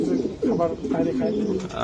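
Pigeons coo softly in a loft, a few low throaty rolling calls close by, with some background voices mixed in.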